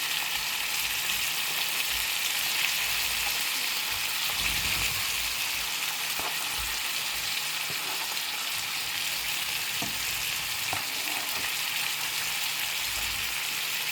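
Shrimp sizzles in a pan beside catfish seasoned with Texas Bricken seasoning, a steady dense crackle and hiss that holds through the whole stretch with a few brief pops, close and even, with no voices.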